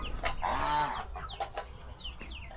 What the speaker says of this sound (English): We got some Rhode Island Reds.